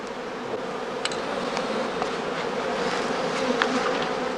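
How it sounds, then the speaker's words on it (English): A honeybee swarm pours out of a straw skep at a beekeeping outstand, a dense, steady buzzing hum that fills the scene, with individual bees zipping close by now and then. "the beekeeper waits for the second swarms, or casts, to emerge from the skeps"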